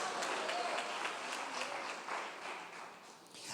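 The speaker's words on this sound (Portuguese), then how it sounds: "As palmas para Ele" A dense wash of clapping from a large church congregation, steady and fairly distant, with voices mixed in before it tapers off.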